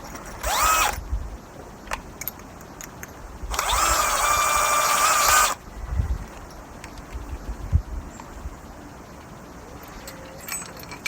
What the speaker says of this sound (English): we're going to drill these out ever so slightly.